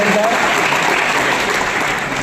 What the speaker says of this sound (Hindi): ताली बजा दीजिए आप सभी